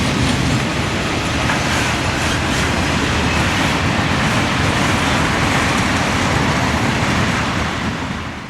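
A long general merchandise freight train rolls westbound down a 1% grade close by, a steady heavy rumble of rail noise and clattering wheels, fading slightly at the end.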